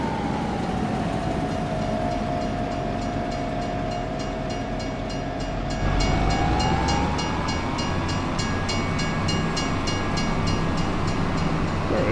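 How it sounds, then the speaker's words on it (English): A train rumbles past in the Farming Simulator 25 video game, a steady loud roll with a long sustained horn-like tone throughout, swelling louder halfway through as the cars go by, with no talk over it. "Ah, man, we didn't beat the train."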